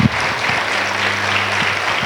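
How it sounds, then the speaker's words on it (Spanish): Church congregation clapping together in a steady, dense burst of applause, fairly close and loud, running the full length with a low hum beneath it. "Dale un aplauso a Jesús si lo crees con todo tu corazón"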